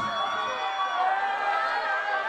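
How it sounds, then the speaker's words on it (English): A festival crowd cheers and whoops for chilli eating contestants at an outdoor chili festival, a steady, dense wash of voices and noise that holds throughout without a clear break. "Give them a round of applause."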